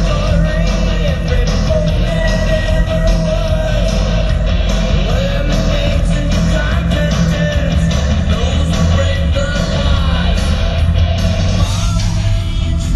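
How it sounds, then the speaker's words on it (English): A thrash metal song plays loud and dense throughout, with pounding low drums and bass under driving distorted guitars and occasional shouted vocals, steady and unbroken. "let's listen to one of the tastiest thrash metal moments"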